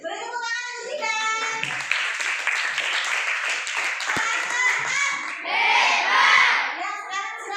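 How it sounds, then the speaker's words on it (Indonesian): Classroom applause for a student presenter: a burst of many hands clapping in quick, dense rhythm, close and loud, with children's voices chattering over and after it. "Beri tepuk tangan untuk Zika."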